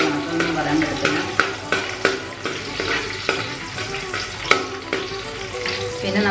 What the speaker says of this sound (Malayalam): നമുക്ക് അണ്ടിപ്പരിപ്പ് വറുത്തെടുക്കാം.